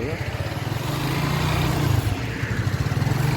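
A motorcycle engine idles and revs close by during a beginner riding lesson, a steady throbbing putter that swells around the middle and then pulses in quick bursts as the throttle is worked.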